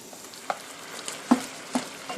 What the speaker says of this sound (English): So now we're just going to stir fry these together until the meat is brown.